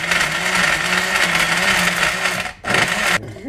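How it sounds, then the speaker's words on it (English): A loud blender whirs close by, grinding steadily, dipping briefly and then cutting off near the end. "Take cover, the blender is about to turn on."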